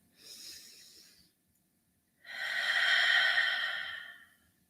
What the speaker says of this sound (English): breathe in with me. One more breath, cleansing breath.